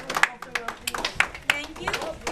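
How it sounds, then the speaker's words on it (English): Students applaud classmates in a school class during a Black History exhibit tour, a short patter of scattered, uneven hand claps from a small group, fairly close, with voices talking over it. "Let's give those 4 a round of applause since they're in our class."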